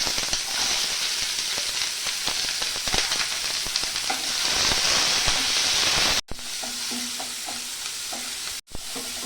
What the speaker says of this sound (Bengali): আর কারিটা করার জন্য আমি এই মশলা কটা ভেজে নেব। তেলে ভেজে এবার অল্প পেস্ট করে নেব।